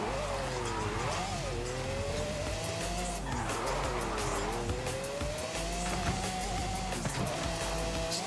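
Car tires squeal and skid in Forza Horizon 5 as a car spins out in a stadium, with a steady engine drone and wavering tire screech running continuously under the race sounds.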